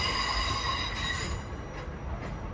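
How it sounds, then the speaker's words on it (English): A Class 376 electric multiple unit, 376014, rolls through Lewisham with squealing wheels and rumbling rail noise, heard close and steady over a few seconds. "Comes your 1700 to London Charing Cross, led by a very noisy 376014."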